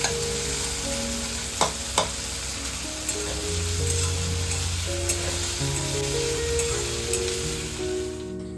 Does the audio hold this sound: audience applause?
no